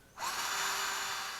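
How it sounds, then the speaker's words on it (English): A power drill spins up and bites into sheet metal on a van, a steady loud whine holding for over a second after a quiet start. "Get the drill going the right way."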